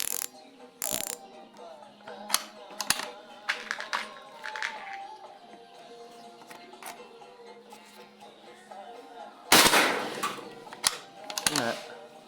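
A new air rifle fires a handful of sharp, isolated cracks spread across a quiet stretch, each shot crisp and close, with mechanical clicks between them and people talking softly in the background.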